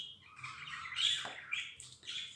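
Birds chirp and tweet outside in short bright bursts, several calls overlapping at moderate distance over a quiet background, with no voices.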